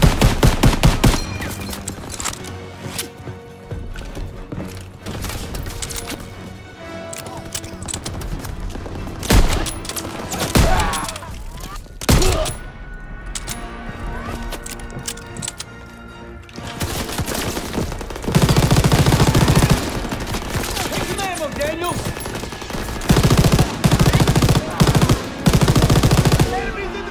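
Sustained bursts of rapid machine-gun fire and heavy explosions from a video game battle, loud and dense, with brief lulls between volleys.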